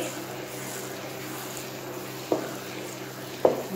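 Parsley and coriander in olive oil sizzle softly and steadily in a pan for a bourek chicken filling, with two brief utensil knocks from stirring near the end.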